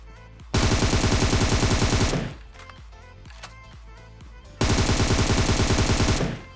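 Automatic gunfire in the mobile battle-royale game PUBG Mobile comes in two long rapid bursts of shots, loud and close, with a quieter gap of game noise between them.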